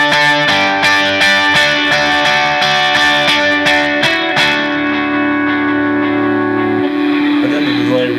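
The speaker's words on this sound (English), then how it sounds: "So the reverb and the delay are ducking on it" A Line 6 HD500 guitar tone played with ducking reverb and delay: a run of bright, distorted picked notes gives way to a sustained chord whose echoing tails bloom and fill the space afterward.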